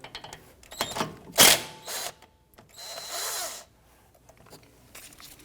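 Power tool spinning out a 12mm bolt on the front strut of a 2017-2020 Hyundai Elantra 2.0L, heard as several short close bursts of whirring and ratcheting separated by brief pauses, with no talking.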